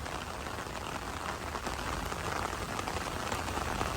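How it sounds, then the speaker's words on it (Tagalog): Heavy rain pours onto the dolomite sand along Manila Bay, a steady dense hiss of drops with no pauses, fairly close and uniform throughout. "habang pumapatak ang malakas na ulan"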